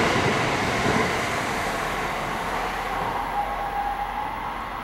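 A Tokaido Shinkansen Kodama train rumbles through Atami Station as a broad, steady roar that slowly eases and thins out over a few seconds.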